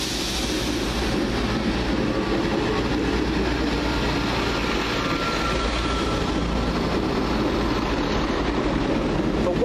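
A British Rail Class 158 diesel multiple unit pulls away from Wolverhampton station, a loud continuous engine drone and rumble with faint wheel clatter, steady and close throughout with no talking.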